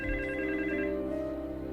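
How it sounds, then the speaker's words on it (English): A telephone rings with a steady electronic warble, one continuous tonal ring heard close and clear with no voices. "And then the phone rang."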